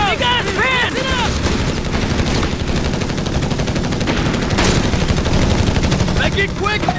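Gunfire from a Company of Heroes 3 four-versus-four battle, a dense continuous rattle of rifle and machine-gun shots under a dense combat din, with in-game soldier voices and whistling, chirping effects at the start and end.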